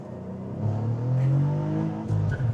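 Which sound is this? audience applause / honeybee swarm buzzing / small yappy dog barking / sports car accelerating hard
sports car accelerating hard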